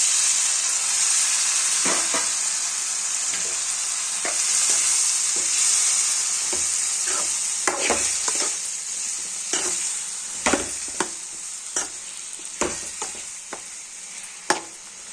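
Tomatoes hit a hot pan for brinjal masala and are stirred, producing a loud, continuous close sizzle with occasional sharp scraping clicks from the spoon.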